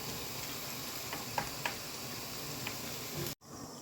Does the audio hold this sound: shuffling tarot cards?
no